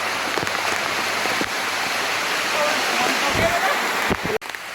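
Heavy monsoon rain in the Girnar hills near Junagadh makes a dense, loud, steady hiss with voices over it, broken by a brief dip near the end.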